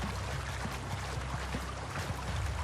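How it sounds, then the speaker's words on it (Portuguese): A waterfall in the video game The Outer Worlds rushes with a steady, even roar of falling water that keeps going without a break. "Vou lá na cachoeira,"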